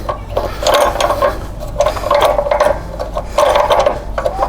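The wheel height adjustment knob on a Powermate 79cc gas edger is loosened by hand, making close, loud ratcheting clicks in several quick bursts.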